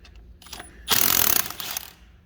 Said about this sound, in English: yes, I'm using a chrome socket. It is all that fits.